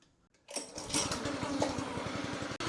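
A Revolution 26 reel mower's engine fires up after a brief quiet moment and settles into a steady, close, pulsing idle with an even rapid putter and no talk over it.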